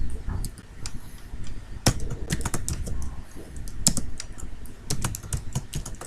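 Rapid, uneven clatter of keys on a computer keyboard as code is typed for a visual programming assignment, with bursts of sharper key strikes over a low background hum and no one talking.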